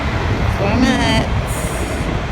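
Steady rumble of a train, likely a subway or commuter rail car, with rolling wheel noise and faint high squeals throughout; voices murmur underneath.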